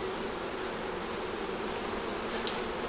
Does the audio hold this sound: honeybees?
yes